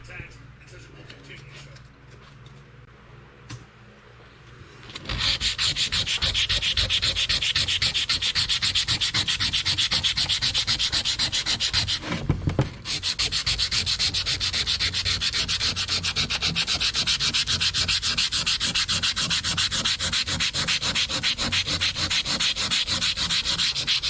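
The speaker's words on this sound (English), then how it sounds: "with just a couple hits of the 60 grit now" Steady, continuous rasping of 60-grit sandpaper worked over an old USGI axe, loud and close with a rapid scratching texture that runs unbroken after a quiet start, pausing only briefly once.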